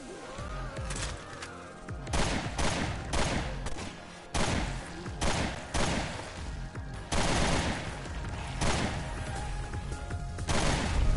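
Rifle fire in a video game, repeated loud gunshot volleys in rapid bursts with crashing impacts, steady firing across the whole stretch.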